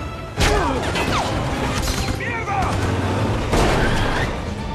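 Gunfire during a film car chase, several sharp bursts and bangs over roaring engines and crashing sounds, loud and chaotic, with a voice briefly heard amid the action.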